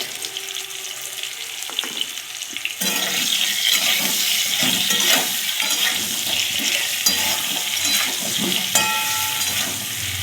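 Potatoes frying with salt and turmeric in an oiled wok give a steady, dense sizzle that grows louder partway through and keeps crackling without a break.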